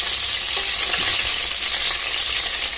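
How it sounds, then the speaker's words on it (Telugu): Brinjals frying in hot oil for stuffed eggplant curry give a steady, loud broadband sizzle throughout, with a few soft stirring scrapes near the start and no voices. "ఇలా మనం వంకాయలని వేసుకున్న తర్వాత ఒకసారి నూనెలోనే ఇలా వేయించుకొని పెట్టుకోవాలి"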